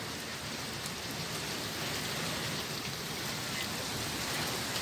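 Steady, dense rain falls outside a room's front veranda during a storm, a continuous even wash of drops on surfaces with no voices.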